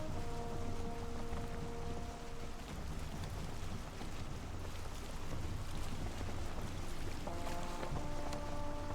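Wind rushes steadily around a sailing boat crossing open water in the video game Valheim, with a constant dense whoosh and a few faint tonal creaks, no talk.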